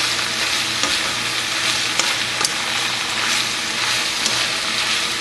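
Onions and green peppers fry on a hot surface for Philly cheesesteaks, a dense, even sizzle with a low hum beneath and occasional light spatula clicks.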